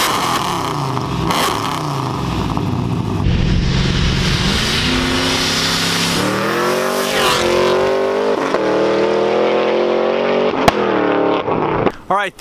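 Supercharged 402 stroker Trans Am V8 making about 800 wheel horsepower, revving hard and loud up close, rising through sustained high-rpm climbs with sharp pops near the end, under some talk.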